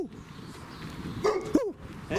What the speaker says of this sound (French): Il est pas fatigué pour aboyer.